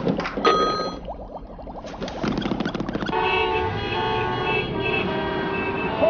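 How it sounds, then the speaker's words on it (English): Car horns honk in a layered pattern on a street, starting with short toots and settling into long, sustained blasts that overlap and hold steady near the listener. "Horns make a pattern of sounds that we use to alert other drivers."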